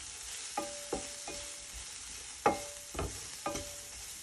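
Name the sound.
frying chicken with paprika powder on low heat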